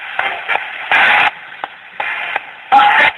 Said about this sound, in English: Okay, I'm going to turn the radio on.